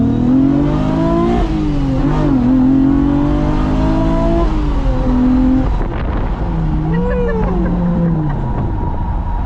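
A Honda K24A-swapped AWD wagon with VTEC revs hard through the gears, its loud, close engine note climbing in pitch, dipping at shifts and climbing again with a raspy edge, no talking.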